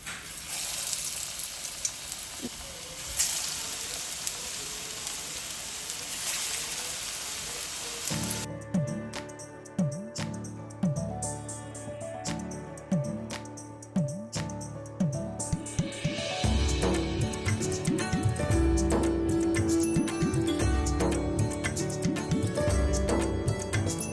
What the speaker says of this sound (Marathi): आणि आता हे फ्राय करायचे शालो फ्राय तर तेल घेतलं आहे आणि गरम होतं आहे